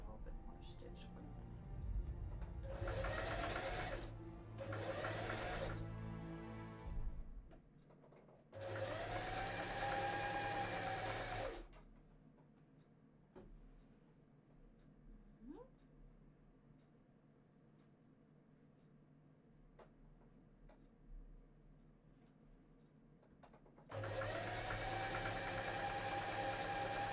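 Home sewing machine stitching cosplay fabric, a loud steady whirring run in several separate bursts of a few seconds each, with quieter pauses between them where speech is heard.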